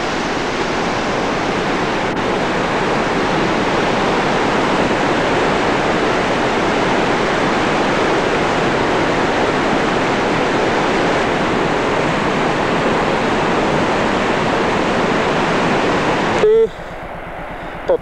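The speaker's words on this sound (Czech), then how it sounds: "Sotefossen, posledních z této čtyřky vodopadů doli Husadalan." Sotefossen waterfall in Husedalen, Norway, roaring as a loud, dense, unbroken rush of falling water heard close up, cutting off abruptly just before the end.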